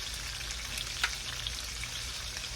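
Parmesan-crusted pork chops fry in a pan, giving a steady, quiet sizzle with a few small pops and crackles and no talking over it.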